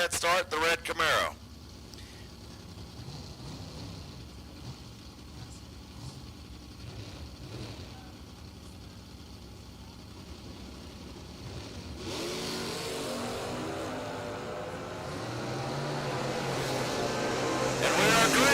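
Drag race cars, including a red Camaro, at the IHRA World Finals, with engines idling and rumbling under an announcer's commentary, then building into a louder, rising roar of launching cars toward the end.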